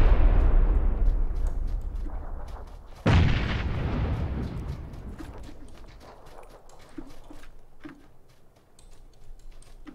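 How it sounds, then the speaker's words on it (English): A frag grenade goes off in a video game with a loud, deep booming blast, a second impact a few seconds later, and then a long fading rumble with scattered faint clicks. "I throw frag too."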